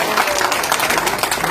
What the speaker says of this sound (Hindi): चलो तालियों के साथ